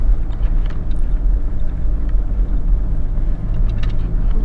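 A car climbs a steep, rocky bush track on the Monument Track in Mansfield State Forest, Victoria, its engine giving a steady, loud low rumble with bumps and jolts throughout.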